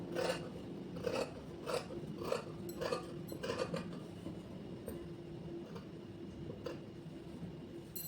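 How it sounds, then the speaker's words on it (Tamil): Scissors cutting cloth for a maxi dress made from a saree, a close series of crisp rhythmic snips that slow and fade to quieter rustling toward the end. "கீழேருந்து நான் உங்களுக்கு கட் பண்ணுறேன்"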